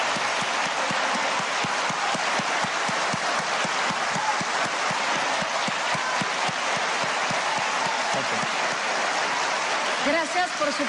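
Steady, dense audience applause for the two presidential candidates at the close of a televised debate, continuous and full for the whole stretch.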